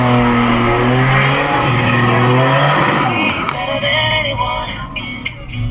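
A Buick Grand National drag racing car accelerates hard, its engine loud and close, the tone climbing and wavering through gear changes before it fades and thins out.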